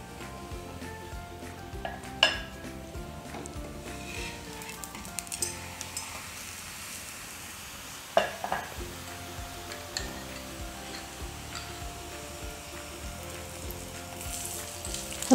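Uttarakhandi rot, a sweet puja bread, cooks in ghee in a pan over a medium flame, giving a steady close sizzle with a few sharp utensil clinks and scrapes as the ghee is spread around the sides.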